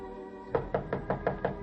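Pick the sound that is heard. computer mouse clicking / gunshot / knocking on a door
knocking on a door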